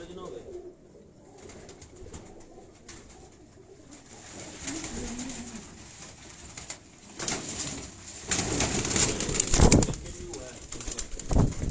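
Pigeons at a farm house in Batapur coo softly and intermittently, with occasional wing flutters, under men's conversation and background bustle that grows louder toward the end.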